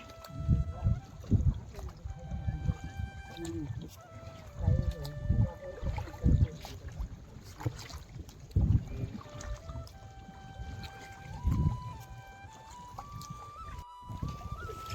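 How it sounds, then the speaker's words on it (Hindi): Boat crossing the backwater of the Hathni river, with steady water and motor-like low rumble throughout, punctuated by louder bumps and splashes; a melodic tone drifts over it while voices are faintly present. "और ये है हथनी रिवर जिसका अभी बैक वाटर जो है हम नाव में बैठ के पार कर रहे हैं।"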